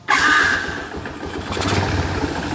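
A Yamaha Exciter 135cc motorcycle, freshly fitted with a new piston, cranks and fires up at close range, then settles into a steady, loud idle with a rising mechanical rattle.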